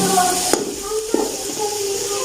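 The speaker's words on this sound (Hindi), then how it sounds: "अभी हम डाल देते हैं यखनी के लिए पानी" Water poured into cooking masala for chicken matar pulao, a continuous splashing stream with a couple of sharp clinks and a faint voice in the background.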